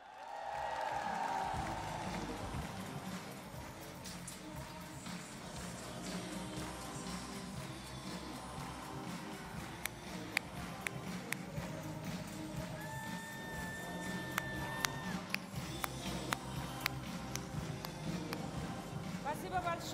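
Applause from an audience welcoming a presenter onto the stage at an NL International product event, a steady, dense patter lasting throughout with some talk and noise mixed in.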